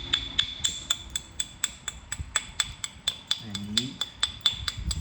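A rock being flintknapped into an arrowhead with a bopper, a rapid, regular series of sharp, ringing stone-on-stone taps, close and loud, with a short low vocal sound partway through.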